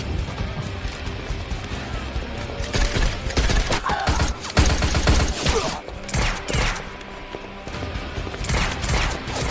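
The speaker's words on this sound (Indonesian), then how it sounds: "Mereka semua sempat baku tembak hingga suasana menjadi tegang" A gunfire exchange in a zombie film, with repeated sharp gunshots and bursts of rapid fire crackling loud and close over several seconds, mixed with impacts and a background music bed.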